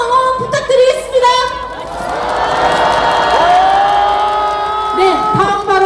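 A huge crowd at a political rally before the National Assembly in Yeouido, Seoul, demanding the president's impeachment, roars loudly with sustained shouting, rising whoops and cheering voices that swell and hold throughout.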